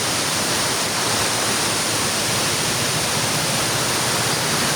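Heavy rushing water roars steadily from start to finish at Wawa Dam, a dense, unbroken wash of sound like water pouring over a dam.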